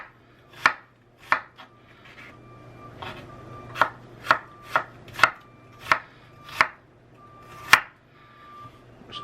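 A knife slices onions into long strips on a cutting board for Philly cheesesteak, sharp distinct chops landing about ten times in an uneven rhythm, close and clear with quiet gaps between strokes.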